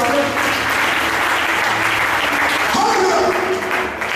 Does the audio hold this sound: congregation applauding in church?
yes